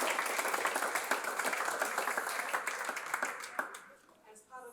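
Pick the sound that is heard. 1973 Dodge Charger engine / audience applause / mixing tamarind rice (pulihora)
audience applause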